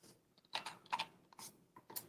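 Typing on a computer keyboard while setting up a spreadsheet, a quiet scatter of soft key clicks in short irregular bursts, close by with no talking.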